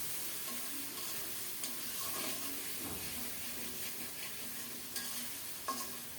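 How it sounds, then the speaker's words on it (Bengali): Masala and tomato sizzle and fry in a pan while a spoon stirs with soft scraping strokes, a steady close hiss throughout with no voices. "মশলাটাকে খুব সুন্দর মতো টমেটোর সাথে কষিয়ে নিচ্ছি"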